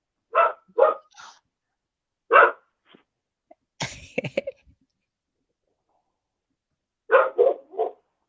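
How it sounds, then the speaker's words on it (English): A bulldog barks outdoors in short sharp bursts: a pair, a single bark, then a quick triple later, loud and close with quiet gaps between. "you hear this dog?"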